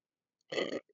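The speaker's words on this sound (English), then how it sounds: "Ooh, burp, excuse me" A single short, close burp from a person on a livestream, loud and alone in otherwise quiet surroundings.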